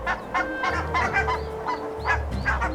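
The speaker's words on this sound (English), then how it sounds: "Barnacle geese, another Arctic cliff nester." Barnacle geese on an Arctic cliff give a string of sharp, nasal honks, several calls in quick uneven succession, clear and fairly close.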